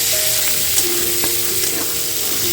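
Onions fry in a pan with a dense, even sizzle that holds steady and loud, with a faint clink or two from a utensil.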